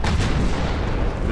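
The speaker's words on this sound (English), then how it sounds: "It's probably going to fire one of its flank torpedoes." A warship firing torpedoes in the naval game Ultimate Admiral Dreadnoughts, one loud, dense booming launch blast that fills the short moment with no talk.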